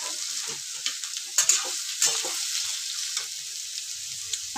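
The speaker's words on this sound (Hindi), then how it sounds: "अच्छे से हम प्याज को गैस का फ्लेम तेज करके ही भूनेंगे।" Onions fry over a high gas flame in a pan, a steady bright sizzle with intermittent scraping strokes of a spoon as they are stirred.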